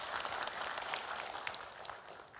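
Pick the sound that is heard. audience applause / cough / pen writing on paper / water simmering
audience applause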